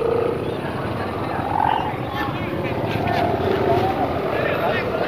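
A sendaren hummer on a flying gapangan kite drones in gusty wind, a steady, loud, buzzing hum that holds throughout with slight swells in pitch and strength.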